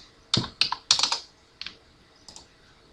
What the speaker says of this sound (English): So I'm going to type in 10 inches